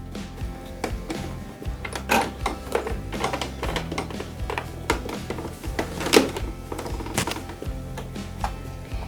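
A sewing machine stitches a seam on a hoodie, producing a fast, steady mechanical clatter of tapping and thunking needle strokes, fairly close and moderately quiet, with no speech.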